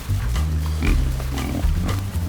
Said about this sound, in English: These are the more passive pigs. So we're going to let these 3 run first.